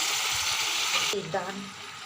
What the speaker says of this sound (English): I'm just adding this mutton to this onions and oil